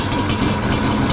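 A rebuilt Yamaha Banshee ATV engine idles steadily in a close, continuous low rumble with a faint rhythmic throb, with no voices over it.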